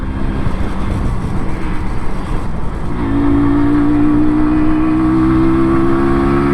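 A two-stroke MZ 125 motorcycle idles and burbles roughly, then the clutch is let out and the engine note rises to a steady, loud, close drone that holds to the end.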